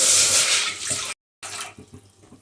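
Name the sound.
water poured into wide cooking pot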